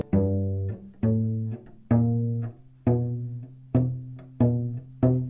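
A cello plays a slow series of plucked-sounding, muffled notes, strings not fully pressed down, that die away quickly instead of ringing, with no one speaking.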